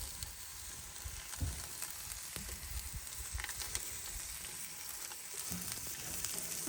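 Beer can chicken on an off-grid grill sizzles quietly with a steady, soft crackle and a few light clunks, and there is no talking.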